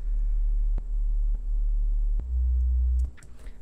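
An undistorted Sylenth1 sine-wave sub bass plays as a deep, steady low hum in sustained notes, broken by brief gaps and a short click before a final shift in pitch, alone with no voices.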